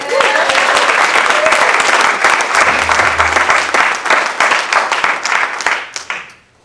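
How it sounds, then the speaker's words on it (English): Loud, dense applause from an audience, sustained for several seconds before fading out quickly at the end. "Wonderful, wonderful round of applause, Mr. Gabriel Roxbury."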